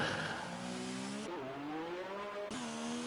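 A Formula 1 car in F1 2019 slowing into the pit lane at the Belgian round, its engine a steady high whine that steps down through downshifts, loud and continuous.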